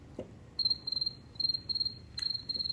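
A human voice imitates a cricket by moving the uvula, producing a series of short, high-pitched trilling chirps in a steady rhythm, close and fairly clear.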